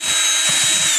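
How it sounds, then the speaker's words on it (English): A power drill bores holes into a plastic bucket, running as one steady, loud whine through the whole second with the pitch holding nearly constant. "So I'm going to go ahead and start drilling some holes"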